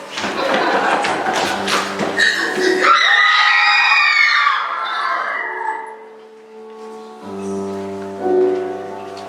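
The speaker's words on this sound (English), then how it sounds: "The best scream you can imagine" People scream together on stage in a high school theatre production, a loud sustained crowd of high shrieking voices after some busy thumping, then fading into quieter held tones.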